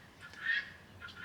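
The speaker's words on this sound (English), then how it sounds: "those guinea hens just do not want to shush today" Guinea hens calling in the background, a faint, harsh honking cry that swells briefly in the middle and returns near the end, with no talk over it.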